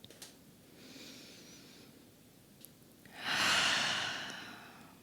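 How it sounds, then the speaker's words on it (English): Slow, deep breathing during a yoga flow, with a soft drawn-in breath followed by a longer, louder exhale, close and unhurried. "One more slow round of breath."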